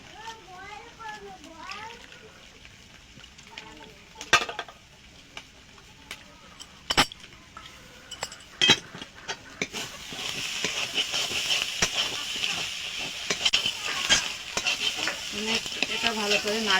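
Rice flour stirred into water for a cabbage ghonto, with a soft scraping and swishing of the batter, then a brighter sizzle from the pan toward the end. Clanks and scrapes of utensils are heard, with a voice in the background early on.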